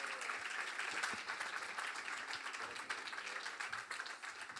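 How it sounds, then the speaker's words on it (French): A studio audience applauds chefs at a French cooking competition after a plate of small pitas, dense continuous clapping that holds steady for a few seconds. "On peut les applaudir pour ces petites pitas."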